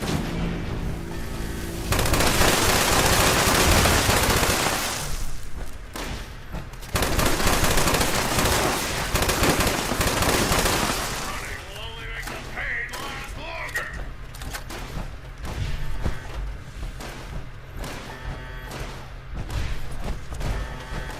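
Gunfire in the video game Fallout 76 comes as dense, loud bursts of rapid shots, with game voices and other noise running underneath throughout.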